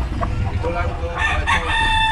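A rooster at a game-fowl farm crows loudly and close, with clucking and other fowl sounds under it.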